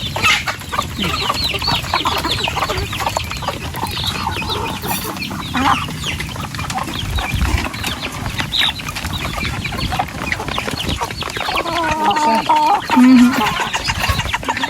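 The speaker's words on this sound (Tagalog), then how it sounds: "Agawan po yung mga manok." A flock of chickens clucks and squawks continuously up close, a busy overlapping chatter with occasional louder calls.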